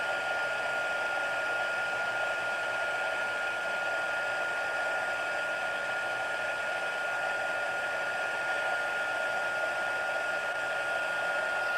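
A heat tool blows hot air steadily for heat embossing on a scrap card made from designer series paper, a loud constant whooshing roar with a faint whine, unbroken throughout and with no talk.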